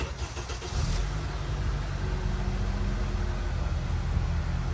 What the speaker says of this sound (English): Okay, let's crank it up.